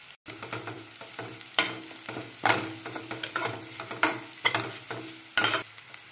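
Onions frying in a pan with dried red chillies for a cabbage poriyal, a soft sizzle under repeated sharp scrapes and knocks of a spatula, the stirring strokes coming roughly every second, close and alone.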